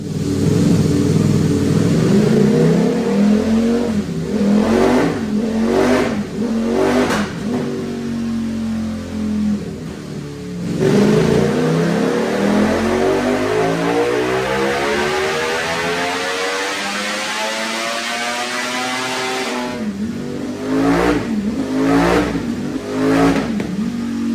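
A 2025 Ducati Panigale V4 running on a dyno on 91 pump gas through an Akrapovic exhaust, loud and close, with several sharp revs followed by a long sweeping climb in pitch and more short blips.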